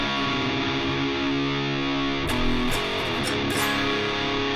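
Heavy metal guitar riff in drop D played dry through an Engl Powerball distortion pedal with high gain, sustained chugging chords then sharp palm-muted stabs, loud and close with no reverb.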